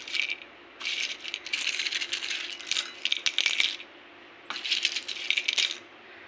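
Crunchy dried lemons rattle in bursts, a bright, dry clattering like coins or pebbles being shaken, close and fairly soft, with short pauses between shakes.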